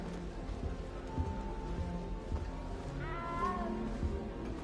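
A small cat mewing in a video game, with a few faint meows rising over a soft, steady rain-like ambience.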